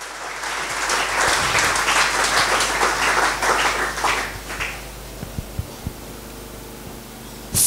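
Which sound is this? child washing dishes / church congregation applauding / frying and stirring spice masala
church congregation applauding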